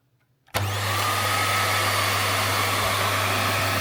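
A VAX Mach Air vacuum cleaner switches on with its brush bar running, cutting from near silence into a loud, steady motor whine and airflow roar that holds without change.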